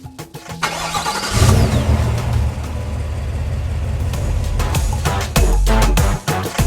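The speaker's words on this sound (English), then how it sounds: "This car just turned on." A Cadillac Escalade starts with a sharp crank and catches, then settles into a loud, steady engine rumble that surges again near the end, close and clear with no talk.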